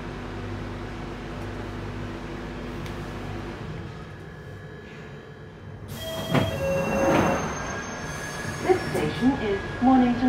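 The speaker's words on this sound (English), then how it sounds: "This is a Northern Line train terminating at Battersea Power Station." A London Underground Northern Line train runs with a steady low rumble, then louder screeching wheel and brake tones and clattering near the end, with no talk over it.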